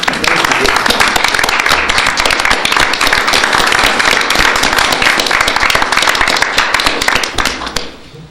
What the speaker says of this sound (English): we applaud her